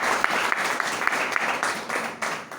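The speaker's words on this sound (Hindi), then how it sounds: "एक और उनकी जोरदार ताली हो जाए" An audience at a company business-plan meeting breaks into a loud, dense round of applause, sustained clapping with a few sharper claps poking through.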